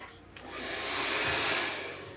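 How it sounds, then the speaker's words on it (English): A Twin Turbo 3200 blow dryer runs steadily with a loud, continuous whooshing roar that swells slightly midway, with no voices over it. "I'll be using this blow dryer, which is the Twin Turbo 3200"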